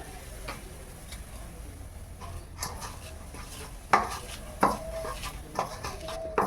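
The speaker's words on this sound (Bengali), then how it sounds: "লবণ পেঁয়াজ লঙ্কাটা ভালো করে একটু মাখিয়ে নিলাম" Salt, chopped onion and green chili being mixed together in a bowl, with soft stirring rustles and several sharp clinks of utensil against dish, close and moderately loud.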